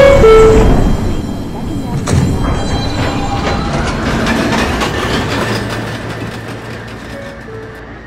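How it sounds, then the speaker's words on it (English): A Manhattan-bound Q subway train on the Coney Island line rumbles and clatters along the rails, with a brief two-tone chime at the start and a recorded announcement voice over the noise. "This is a Manhattan-bound Q train via the M line."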